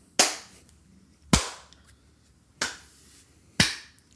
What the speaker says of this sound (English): Can you get a clap for me so I can sync the audio?